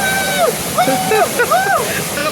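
Rushing water from a waterfall at Kanthalloor in Idukki gives a steady, loud wash, with voices talking over it throughout.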